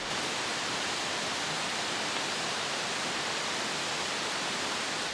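Forest creek flowing steadily, a dense even rush of water that fills the whole stretch without a break and stays at a constant level, no voices.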